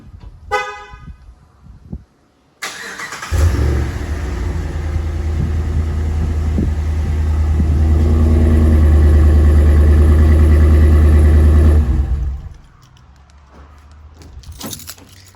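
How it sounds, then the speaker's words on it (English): 2013 Ram 1500 pickup with stock exhaust fires up by remote start after a key-fob chirp, catching with a brief rev and settling into a steady, deep idle close by before shutting off. "Here, let me do the remote start."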